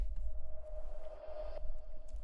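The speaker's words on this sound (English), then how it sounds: "Yeah, so I recorded one hit of this plug with a shit ton of reverb on it, and then I just reversed it." A single plug hit drenched in heavy reverb and played in reverse within a tech/bass house track, a sustained tone swelling upward in level and cutting off abruptly, over a low steady rumble and with no talk.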